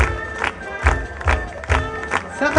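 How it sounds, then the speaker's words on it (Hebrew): A crowd at a kibbutz Shavuot celebration claps and cheers in several loud bursts, with a few shouted voices rising over the applause. "קבלו אותם במחיאות כפיים!"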